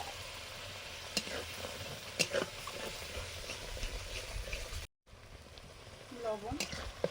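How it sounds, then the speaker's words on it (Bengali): A spice paste cooks in a pan with water, giving a soft, steady sizzle and bubbling with faint stirring scrapes, briefly cut out midway, with a quiet voice near the end. "জল দিয়ে মশলাটা করছি।"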